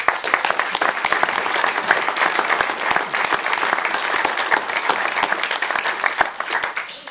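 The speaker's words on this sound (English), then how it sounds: "I'd just like a round of applause for her as well" Sustained, energetic applause from an audience at a post-film panel discussion, a dense and even crackle of many hands that stays loud throughout and eases slightly at the very end.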